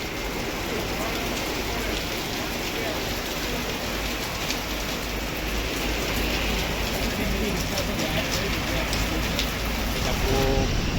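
Heavy night-time downpour at three in the morning in Sanand, amid strong wind and lightning, a dense, close, unbroken roar of rain pounding surfaces for the whole stretch.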